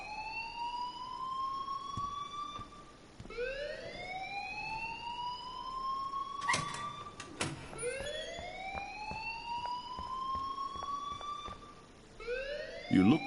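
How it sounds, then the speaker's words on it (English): A rising, repeating electronic alarm wails over and over in the video game Life is Strange, each sweep climbing in pitch and then restarting, loud and steady, with a few sharp clicks and a brief burst near the end. "please turn off that alarm since that's your job"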